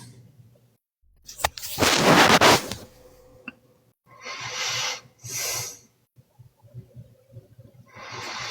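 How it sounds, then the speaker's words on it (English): Heavy, loud breathing close to the microphone, with a long rushing exhale followed by several shorter breaths separated by quiet gaps, inside a car with fogged windows. "Me and my heavy breathing."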